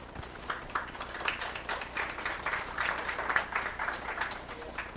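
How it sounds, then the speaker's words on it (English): Light applause at a school board meeting, a modest room of people clapping fairly faintly for several seconds with some background murmur. "Applause for both of them."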